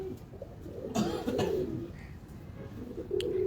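Soft repeated cooing of pigeons in a breeder's loft, low murmuring calls close by, with faint thumps and a brief voice-like sound in between.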